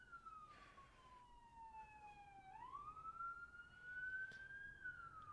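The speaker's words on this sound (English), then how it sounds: "Oh, you hear that siren?" An emergency vehicle siren wails from a distance, a single sweeping tone that falls slowly, then rises and holds, faint against quiet background rumble.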